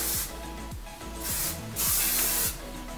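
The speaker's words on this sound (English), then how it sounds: "tip my head upside down, spray it a little bit." Hairspray sprayed onto curled hair with the head tipped upside down, a few short close hissing bursts of the can separated by brief pauses.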